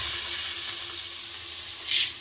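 Steady sizzling of spices tempering in hot oil, close and moderately loud, with a brief louder hiss near the end.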